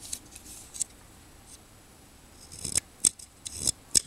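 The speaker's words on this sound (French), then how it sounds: "une paire de ciseaux." Small multi-tool scissors on a Leatherman Wave snip several times in quick, crisp cuts, the sharp metallic clicks bunched toward the end after a quieter stretch.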